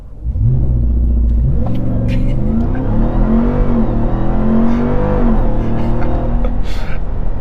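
A 700 hp RAM TRX pickup sits on launch control at its launch RPM. The engine gives a loud, continuous, deep burbling rumble that wavers and hesitates, close to the listener, with no talking.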